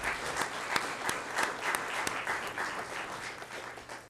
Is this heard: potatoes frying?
no